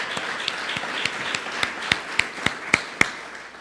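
An audience applauds Delegate Eric Nelson at a university campaign announcement: a soft, steady wash of clapping from a sizeable crowd, with a few sharper, nearer claps standing out toward the end.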